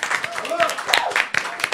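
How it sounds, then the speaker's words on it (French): A live stage-show audience applauds in quick scattered claps of moderate loudness, with people talking and calling out over the clapping. "On peut vous applaudir extrêmement fort."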